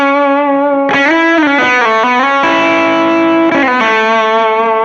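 Electric guitar played through a pedalboard, shifting from a cleaner tone into thicker overdrive once a preamp pedal is switched on, with sustained chords and short strums ringing out loud and close, no talking.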